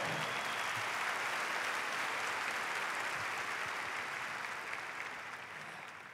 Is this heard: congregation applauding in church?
yes